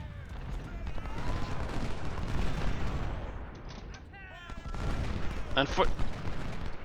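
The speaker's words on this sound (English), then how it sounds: "These guys should be taking short-range artillery fire" Short-range artillery and massed gunfire crackle through a Total War-style video game battle, a steady volley of distant pops and booms under a voice, with a sharper burst of shots toward the end.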